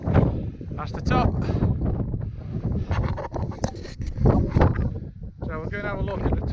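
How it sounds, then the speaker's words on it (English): Strong gusts buffet the microphone in rough roaring bursts on the summit of Lingmoor Fell in the Lake District while a person keeps talking underneath. "it's going to be very windy, so you probably won't hear me talking"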